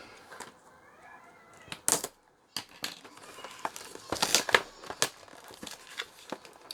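Sharp snips and crinkling plastic come in irregular bursts, a few loud crackles and cuts separated by short quiet pauses, close by.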